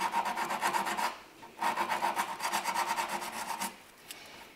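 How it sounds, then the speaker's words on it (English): Old body filler stopper is hand-sanded off a Citroën GSA to give a fresh key, two bursts of quick rhythmic rasping strokes, close and steady, separated by a short pause, with no speech. "So I'm just going to sand that off real quick."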